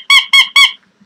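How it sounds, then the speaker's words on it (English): A squeaky toy lets out three sharp, bright squeaks in quick, even rhythm. They are close and loud, then stop. "Where's my little squeaker?"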